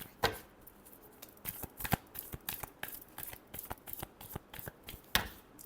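Tarot cards shuffled by hand in a steady run of quick, crisp riffling snaps, close and fairly quiet, with a few louder slaps among them and no talking.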